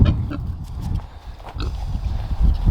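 An aggressive male pig in a pen with females grunts in low, rough bursts over steady barn noise and shuffling, close and fairly loud.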